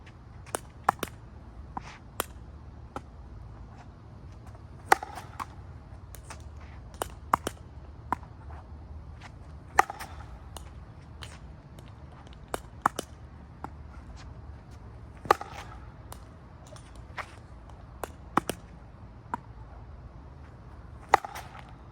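Pickleball serves struck with a 9.0-ounce Crbn 1X paddle give sharp, crisp pops at irregular intervals, fairly faint against a low background rumble.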